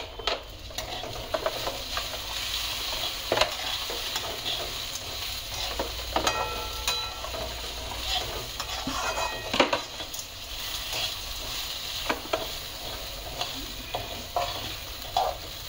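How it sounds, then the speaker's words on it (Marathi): Green chilies fry and hiss steadily in a pan of spice masala while a utensil stirs them, with scraping clatters and small metallic knocks scattered throughout at close range. "आता या मिरच्याही आपल्याला ह्याच्यामध्ये घालून घ्यायच्यात, ह्याही चांगल्या परतवायच्या"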